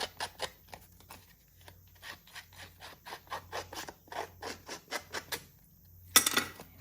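Embossed weave-pattern paper has its edges roughed up with a tool, giving a quick series of soft, close scraping strokes in an uneven rhythm, with a brighter rasp near the end.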